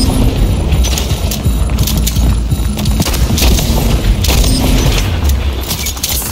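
Gunfire in the video game Splitgate bursts loud and dense, with rapid shots and booming impacts over a constant game background.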